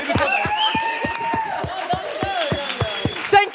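Applause rises at an academic conference on slavery in Moldova and Wallachia, with individual claps ringing out in a fairly even rhythm, close and clear, while a voice and some tonal sounds carry on underneath.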